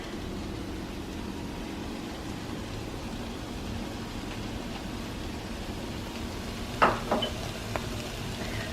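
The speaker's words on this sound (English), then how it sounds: "So we're going to cook this with the spices for about 2 minutes" Spices fry in a pot for Moroccan lentil vegetable soup, giving a steady soft sizzle with a few sharp clinks of a utensil against the pot near the end.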